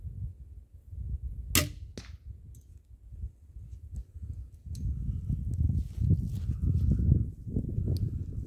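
A Man Kung MK-XB25 Specter crossbow fires an arrow with a sharp snap and twang, followed by a second quieter crack, amid outdoor rustling and handling noise.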